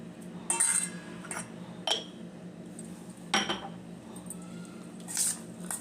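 Spoon stirring wheat flour bonda batter with salt, potato and onion in a bowl, giving a few sharp clinks against the bowl at irregular intervals over a low steady background, no talking.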